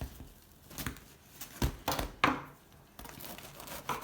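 A knife cuts through a freshly baked loaf of homemade bread, with several crisp, crackly strokes and crunches through the crust, close and fairly quiet between the cuts.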